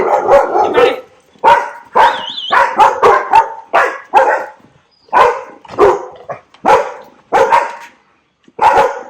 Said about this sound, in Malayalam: നോക്കിയേ എത്ര പട്ടികളാ പോന്നേന്ന്.